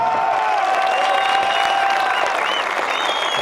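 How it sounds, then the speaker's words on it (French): Sustained applause from a cinema audience at a screening, dense and steady handclapping throughout with a faint cheer or whistle rising near the end. "Donc s'il vous plaît, vous pouvez l'applaudir."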